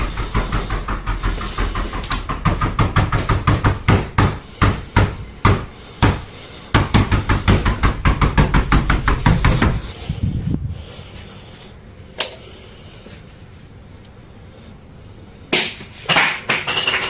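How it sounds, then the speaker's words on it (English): Series of repeated sharp knocks and thuds inside a house, coming in rapid bursts for about ten seconds, then a quieter stretch with a few isolated bangs near the end. "When he opens the door to the knocking, there's nothing there"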